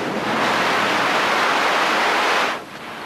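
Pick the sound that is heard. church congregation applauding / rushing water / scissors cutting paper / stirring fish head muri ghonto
rushing water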